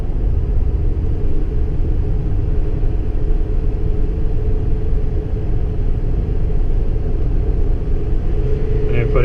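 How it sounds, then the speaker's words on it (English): A 2017 Ford F-650 truck engine-brakes down a hill, giving a loud, steady low rumble and drone from the cab that holds even and continuous from start to finish. "So let's try do some engine braking down this hill."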